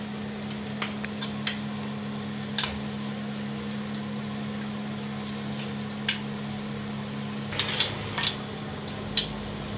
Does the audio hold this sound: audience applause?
no